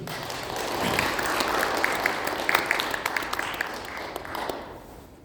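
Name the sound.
audience applause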